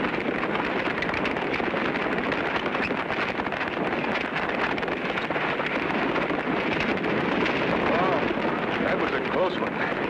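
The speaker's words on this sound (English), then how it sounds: "There's always dangerous stampedes in this open range country." A cattle stampede rumbling past on open range country, a dense continuous roar of hooves and dust that stays loud and unbroken from start to finish.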